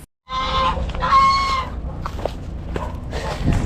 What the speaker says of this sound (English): Oh, gonna get attacked by a goose.